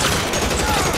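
Dense, rapid gunfire from a shootout in L.A. Noire on PS4 rattles continuously through a brief, loud moment.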